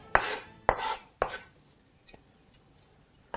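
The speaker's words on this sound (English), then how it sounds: "That should aid you in chopping that a little easier." Onions chopped with a knife on a board, three sharp close chopping thuds in a steady rhythm, followed by a couple of faint taps and a final chop.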